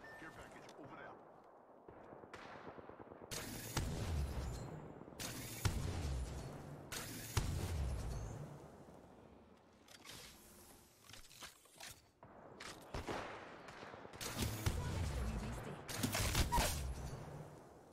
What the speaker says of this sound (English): Look how good this charge rifle is.